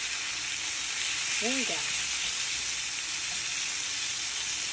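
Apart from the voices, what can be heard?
honey Cajun salmon fillets frying in a pan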